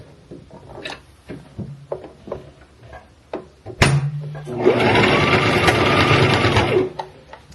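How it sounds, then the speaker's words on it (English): A sewing machine stitches a seam on an abaya, starting after a few light handling clicks and a sharp knock, then running in a loud, steady mechanical whir for several seconds before stopping. "I'm going to sew."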